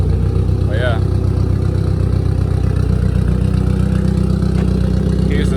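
A Mitsubishi Evo X engine running on a base map, untuned, idles roughly with a steady low throbbing drone at close range, while a person talks over it and a brief squeak rises twice.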